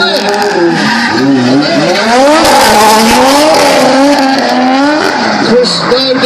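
A drift car at a drift event launches off the line, engine revving hard as its tires squeal in long, wavering, loud howls. A commentator talks over the sound throughout.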